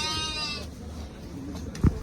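A goat's wavering bleat rings out briefly amid the noisy background of a livestock market in Jalal-Abad, Kyrgyzstan, followed by scattered thumps and murmurs.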